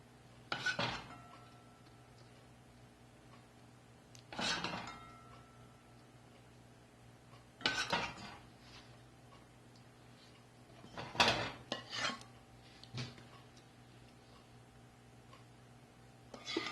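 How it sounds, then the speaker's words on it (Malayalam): Sweet diamond cuts being stirred in a pot as syrup is poured over them: a handful of separate clattering scrapes and knocks spaced several seconds apart over a quiet background, close and moderately loud. "ഞാൻ ഇളക്കാൻ പോകുന്നു. സിറപ്പ് ഇതിന്റെ മുകളിലോട്ട് ഇങ്ങനെ ഒഴിച്ചു കൊടുക്കാൻ പോവാം."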